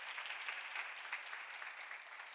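A church congregation claps together during a sermon, a faint, somewhat distant patter of hands with a few sharper claps standing out, steady throughout.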